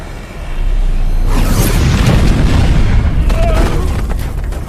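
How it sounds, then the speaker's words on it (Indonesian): Deadpool's laser blast fired at Logan atop a tower in X-Men Origins: Wolverine, a loud sustained booming roar that swells in within half a second and rumbles on for several seconds, crackling and dense, with no speech. "Deadpool menembakkan laser ke arah mereka berdua"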